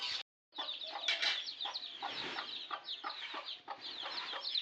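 Several chickens clucking close by in a busy, continuous chatter of short repeated calls, after a brief moment of silence at the start.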